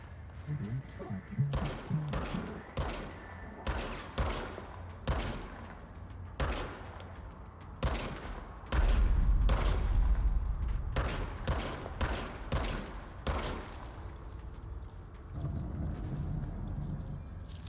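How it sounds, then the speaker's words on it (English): Weapon fire from a gun in the video game Control rings out in repeated sharp bursts and single shots, loud and close, with booming impacts and a low rumble between volleys. "Now I have a gun."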